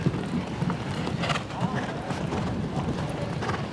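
Hooves of a show-jumping horse at an eventing competition, galloping strides thudding under steady outdoor noise and wind, with voices talking over much of the clip.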